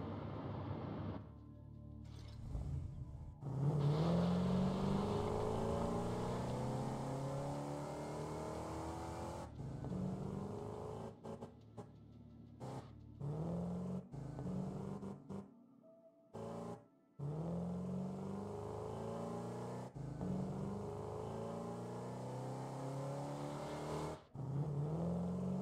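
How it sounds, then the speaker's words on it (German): A buggy drives in the factory-building game Satisfactory, its engine droning steadily and revving up and down over a long stretch, with a few brief dropouts and no talk. "Ja, wir können mal kurz Buggy fahren in dem Fall."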